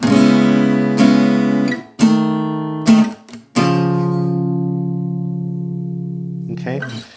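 Electric guitar chords ring out in a few sustained strums, with short breaks between them and one long chord left to decay.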